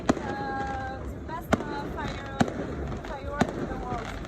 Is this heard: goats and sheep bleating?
no